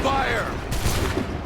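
Musket volley in Assassin's Creed 3, a ragged burst of gunfire rolling out together with a booming echo that fades, mixed with loud shouted commands.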